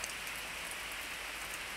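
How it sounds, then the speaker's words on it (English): Steady rain in the North Maine Woods, a dense, even hiss of drops falling on surfaces without a break, fairly soft and continuous with no voices. "As you can hear and probably tell, it's raining."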